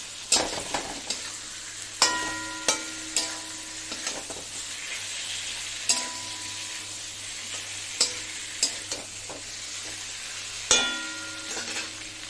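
Taro curry is stirred in a hot pan, a steady sizzle and hiss running under repeated sharp scrapes and clinks of a spoon against metal, close and continuous with no talking.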